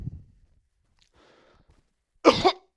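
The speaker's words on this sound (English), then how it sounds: "coughing on COVID" A man sick with COVID lets out a short burst of one or two harsh, close coughs after a few soft breaths, with no talking.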